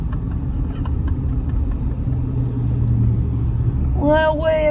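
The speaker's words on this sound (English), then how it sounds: "Well, we've got ourselves in this 5 o'clock traffic" A car driving through 5 o'clock rush-hour traffic, a steady low engine rumble and road noise from inside the cabin, with a voice rising briefly near the end.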